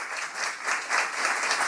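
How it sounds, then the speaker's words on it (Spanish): A short burst of dense, loud crowd applause after the announcement of Nicolás Maduro's reelection as president of Venezuela, steady throughout with no voices on top. "Para él, un fuerte aplauso"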